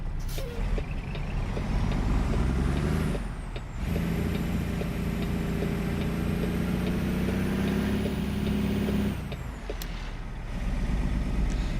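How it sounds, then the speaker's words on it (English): Semi-truck diesel engine in American Truck Simulator, a modded engine on a live cattle haul, rumbling steadily and loud through a slow right turn, with sharp air brake hisses near the start and end. "one of my favorite things about Z-Mod's engines though, man, is that they sound like real actual semi-truck engines"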